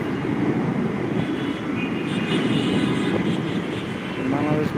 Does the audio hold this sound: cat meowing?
no